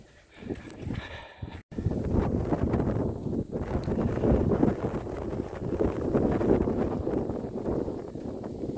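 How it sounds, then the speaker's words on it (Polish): Strong wind gusts across open, exposed terrain near a river, buffeting the microphone with a steady roaring rumble that rises and falls in waves after a brief quieter start. "No tu teren jest odkryty i dosyć mocno wieje"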